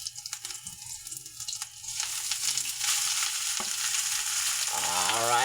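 Leftover cooked rice sizzles in a hot pan, starting with faint stirring scrapes and swelling into a steady, louder frying hiss, with no voices.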